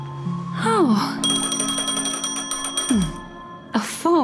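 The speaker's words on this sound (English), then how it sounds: "A phone." A phone rings in a video game with a steady electronic trill lasting a couple of seconds, surrounded by sliding synthetic tones.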